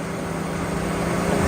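Loud auxiliary blower fan on a Chevrolet Tahoe that has a hard trouble fault, giving a steady, close, powerful whooshing roar that holds constant and swells slightly, with no talking.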